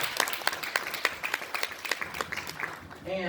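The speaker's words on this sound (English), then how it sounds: "give the Lord a hand clap of praise." A church congregation claps hands in praise, a steady run of claps all through the clip with voices mixed in.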